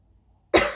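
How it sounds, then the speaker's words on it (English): A person with a suspected chest infection gives a single loud, harsh cough that bursts out abruptly after near silence and trails off briefly, heard close up with no talking. "if I keep coughing, please excuse it"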